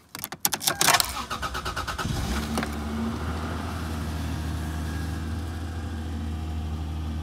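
A 1995 Toyota Crown cranks with a quick chattering starter whir for about a second, then catches and settles into a smooth, steady idle, heard up close.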